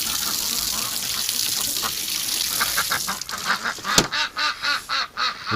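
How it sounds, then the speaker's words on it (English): Ducks in a winter setting quack repeatedly near water in a quick rhythmic series close by, over a steady wash of spraying water. "Oh, look at you little cute ducks."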